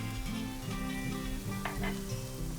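Mushrooms sizzle steadily in a pan, seasoned with salt, pepper and chopped thyme, as they are stirred; a continuous close frying hiss runs throughout with no voices.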